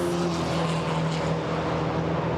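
A GT4 race car at Brands Hatch driving down into the right-hand corner, its engine a loud, sustained, steady drone passing close by for a couple of seconds with no other sounds over it.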